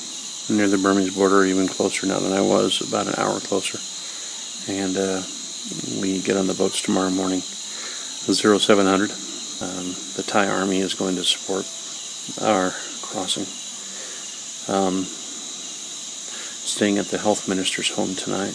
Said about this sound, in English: You can hear the jungle sounds behind me. Very atypical of a jungle where the cicadas are going.